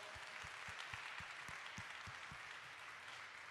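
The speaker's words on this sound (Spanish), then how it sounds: "Así que un aplauso, por favor." Applause from an audience at a Spanish film-festival talk, sustained clapping with several heavier individual claps standing out near the microphone, continuing steadily to the end.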